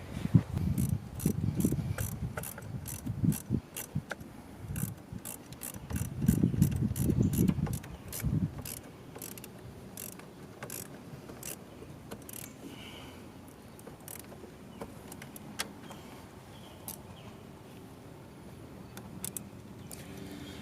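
A ratchet socket wrench clicks in rapid, steady bursts while bolts are worked on during a 16-inch LED light bar installation, close and fairly quiet, with some handling clatter early on and no talk.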